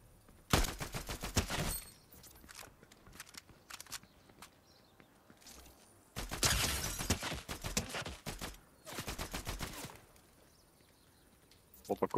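Bursts of rapid gunfire from the video game Fortnite Season 2 ring out in three loud volleys, separated by quieter stretches with faint footsteps and game sounds.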